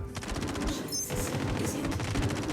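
Rapid bursts of gunfire from enemies shooting at the player's ship in the space game EVE, dense and loud for a few seconds, with no talking.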